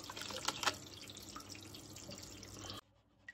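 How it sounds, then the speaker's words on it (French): Cold water runs steadily into a tub, a continuous splashing pour that stops abruptly near the end, leaving near silence with a faint knock. "dans le baquet, on met de l'eau froide"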